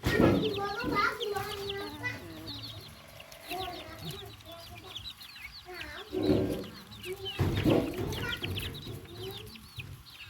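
Chickens cluck and squawk close by in repeated bursts, with people talking among them.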